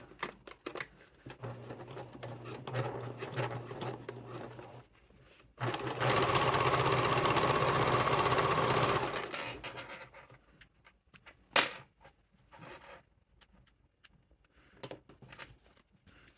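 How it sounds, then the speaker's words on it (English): A sewing machine stitches a bag pocket in a sustained whirring run of about four seconds, close and loud, framed by shorter stop-start bursts and fabric handling. "Then I'm going to sew or fold this edge over and sew over this triangle right here."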